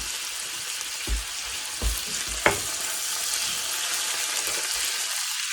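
Pork sizzling steadily in a hot pan for keto burritos, a continuous close fry with a few soft stirring knocks and clicks scattered through.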